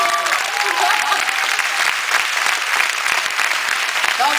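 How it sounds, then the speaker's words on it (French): An audience applauds a colleague named Julien at a Disneyland Paris ambassador nomination event, a steady dense wash of clapping filling the room with faint voices mixed in. "On peut l'applaudir"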